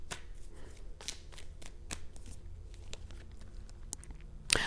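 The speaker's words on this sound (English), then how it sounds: "let me pull one more card before I say anything else" Tarot cards are shuffled close by in quick, papery riffles and taps that repeat steadily for a few seconds, ending in a louder clatter.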